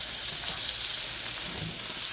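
A T-bone steak sizzling steadily in a hot pan, a continuous bright hiss with faint crackles, close and alone.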